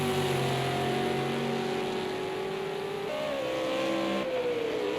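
A V8 Supercar engine in a racing video game pulls hard out of a corner at Rouen-les-Essarts, its steady drone rising in pitch, dropping sharply at an upshift, then climbing again, loud and continuous with no talking.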